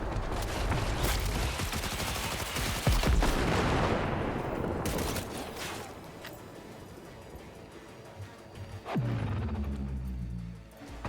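Gunfire in Cyberpunk 2077: dense, loud bursts of rapid shots and booming impacts that crowd the first half, then thin into scattered blasts with ringing tails.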